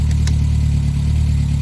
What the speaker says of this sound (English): You hear the engine drop anyway.